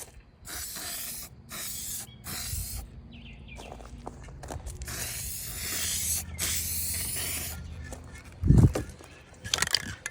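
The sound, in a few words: spray painting with a spray can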